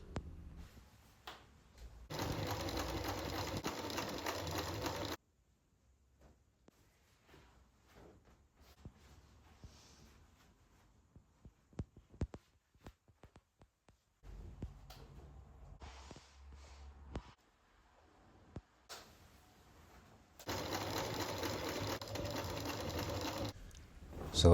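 A sewing machine stitching fabric pieces of a 1606 British flag, with a steady whir in two bursts at the start and end and a lower, quieter run in the middle, separated by near silence and small handling clicks.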